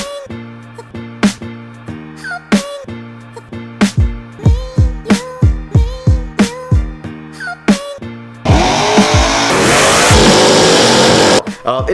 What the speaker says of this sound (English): So I'm gonna hop in the truck. Martin's gonna back me out,